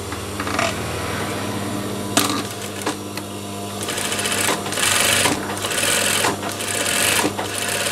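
A sewing machine stitches along the edge of a basic tote bag, running in steady motorised bursts with brief pauses between runs, close and loud, with no voices.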